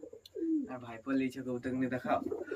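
Domestic pigeons, including a male, coo close by in a steady, throaty series of low rolling calls lasting a couple of seconds.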